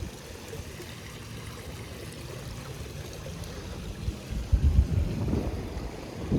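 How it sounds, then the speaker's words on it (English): A water feature flows beside a condominium swimming pool at Ritze Perdana 1 in Damansara Perdana, Petaling Jaya, giving a steady low, faint rush that swells slightly louder toward the end. "Oh, they even have like a water feature."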